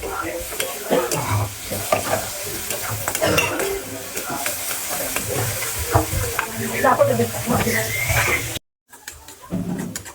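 Tomatoes sizzle and fry in a pan for paneer bhurji as a spoon repeatedly stirs and scrapes, with clattering utensils, brief voices in the background and a short cut near the end.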